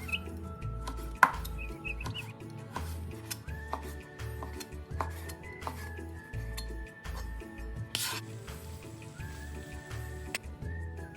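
A knife slices chicken breast on a board while Pattaya-style fried noodles are prepared; steady, rhythmic cuts sound close and clear over background music.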